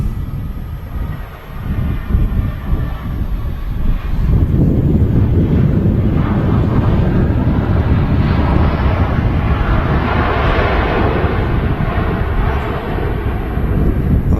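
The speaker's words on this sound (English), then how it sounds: "Jet 2 A321, Brussels A320 just touching down." A Brussels Airlines Airbus A320 lands at Manchester Airport in a gusty crosswind, its roar building from a distant rumble to a loud, sustained low-pitched rush mixed with heavy wind buffeting on the microphone.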